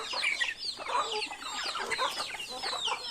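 Chickens on a farm clucking, a dense flock chattering continuously up close with overlapping calls and no talking.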